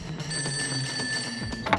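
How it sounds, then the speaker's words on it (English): A telephone bell rings steadily and clearly in the foreground, a bright sustained electronic ring with no talking. "until one day in 1960, Robert's phone rang"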